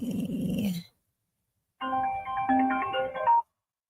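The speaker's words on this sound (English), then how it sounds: "I'm getting phone calls." Incoming call ringtone on a phone, a short melodic electronic tune that plays, stops for about a second, then resumes with a bright chiming phrase, loud and close.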